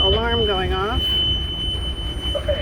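A high water alarm aboard a bareboat charter boat in a bay in the San Juan Islands gives a steady, piercing electronic tone that runs through the whole stretch, with a person talking over it at the start.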